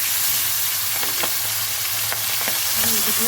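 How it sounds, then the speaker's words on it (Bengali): Fish frying in oil in a wok, a steady broadband sizzle with a few sharper spits and crackles throughout, close and fairly loud, with no talking. "দিয়ে আমি মাছটা ভেজে নেব"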